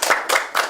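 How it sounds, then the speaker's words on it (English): A studio audience at a Nigerian accountancy-challenge TV game show gives a brief burst of clapping for AAUA, three quick close bursts of hands in a short rapid run. "Round of applause for AAUA"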